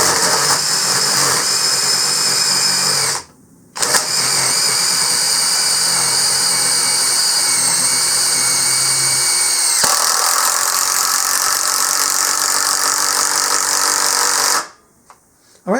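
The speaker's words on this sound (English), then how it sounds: "I'm going to try the same thing now with the 1/3 inch lag bolt and the 1/2 inch lag bolt." Hyper Tough 20V brushless impact driver driving a 1/3 inch lag bolt: a loud steady high-pitched whirring motor runs for about three seconds, stops briefly, then runs continuously for about eleven more seconds before cutting out.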